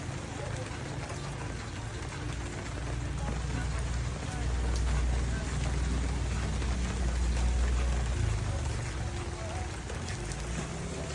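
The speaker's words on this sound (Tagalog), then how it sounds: "Umuulan. It's rainy na." Steady afternoon rain pours down outdoors at a house under construction, a dense continuous hiss with a low rumble growing louder midway, while people talk faintly beneath it.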